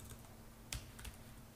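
An old computer keyboard with a sticky shift key clicks under typing, two sharp keystrokes standing out over faint background hum, quiet and close.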